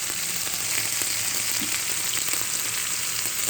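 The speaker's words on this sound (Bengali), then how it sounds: "এবার আমি জল দেবো" Water poured into hot oil for a spicy tilapia fish curry, a loud, dense, steady sizzle and hiss that continues evenly throughout without pause.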